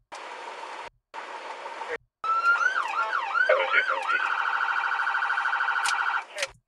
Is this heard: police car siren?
yes